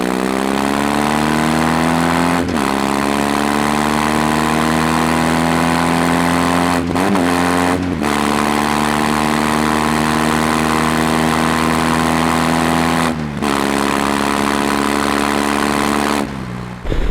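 A BMW R18 Transcontinental motorcycle running steadily with a loud, close engine note, the pitch holding, dipping and rising again as it brakes hard from about 90 and pulls away.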